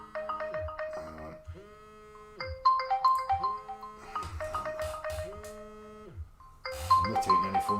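A phone ringtone plays a repeating electronic melody, loud and close, cycling through several bursts of tones with short gaps between phrases.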